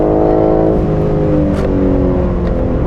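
A BMW M3 or M4 engine revs hard and climbs in pitch as it accelerates, loud and close, heard from inside the car.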